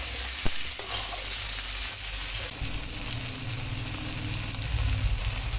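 Pumpkin pieces fry with turmeric and ground cumin in a pan for a fish-head chhokka, a close continuous sizzle with spatula stirring and scraping throughout, no talking.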